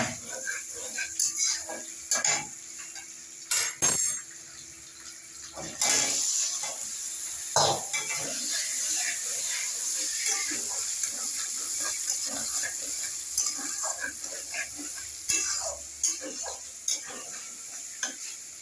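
Oil sizzles and spatters in a pan while chicken kima cooks, with steady stirring and scraping and a few louder clinks, close up and continuous.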